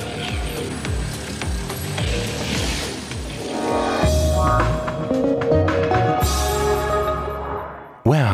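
Automated storage and retrieval machines run along double deep racks in a cable logistics warehouse, giving off steady mechanical whirring, clicking and ratcheting with rising and falling motor tones, then a sharp clunk at the end.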